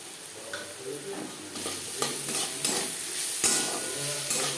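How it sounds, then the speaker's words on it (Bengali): Potatoes fry on a low gas flame with a steady, moderate sizzle while a utensil clinks and scrapes against the pan every second or so, close by and without speech. "গ্যাসের ফ্রেমটাকে লোতে করে দিয়ে দু তিন মিনিট আলু ভেজে নেব"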